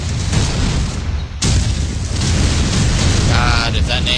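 A grenade blast in Call of Duty 4 during a competitive match: a loud broadband boom around the middle, set within constant game noise and team voice chat.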